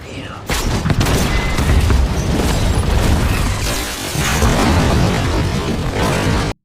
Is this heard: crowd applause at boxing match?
no